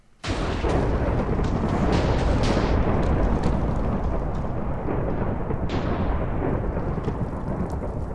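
A Zap Apple in a modded Minecraft world calls down a lightning strike, a sudden, very loud thunderclap that bursts in and then rolls on as a long, rumbling roar with rain-like hiss.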